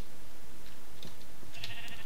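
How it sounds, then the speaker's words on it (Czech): A pink sheep in a Minecraft-style game gives a couple of short, close bleats over a noisy background, with no talking. "růžová ovečka je tu."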